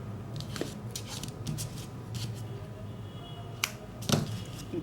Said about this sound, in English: You can now cut your yarn, and when you're cutting, try to cut a long tail here.